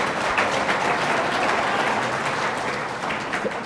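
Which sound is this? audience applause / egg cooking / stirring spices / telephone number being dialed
audience applause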